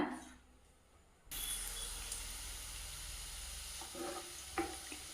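Cumin seeds hit hot oil for samosa chutney prep, setting off a sudden steady sizzle that starts abruptly and holds loud and close, with faint utensil clinks near the end.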